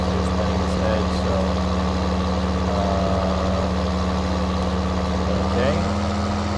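A John Deere 9520 RX tractor in Farming Simulator 19 runs on cruise control while planting canola, a loud, steady low engine drone with constant tonal hum and no change in pace.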